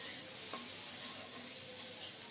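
Tomato, green chillies, salt and turmeric sautéing slowly in a pan over low heat, a soft continuous sizzle with faint stirring scrapes, quiet and steady throughout.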